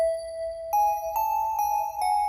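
Bell part of a video game forest theme, clear sustained bell tones with a few ringing notes struck at an even rhythm over a held pitch, loud and alone.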